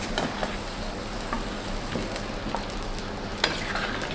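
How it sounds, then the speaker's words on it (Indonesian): Sambal tumpang koyor from Salatiga being stirred in a pan: steady scraping and sloshing strokes over a soft frying sizzle, close and fairly loud, with a few sharper clicks of the spoon. "Kita aduk lagi."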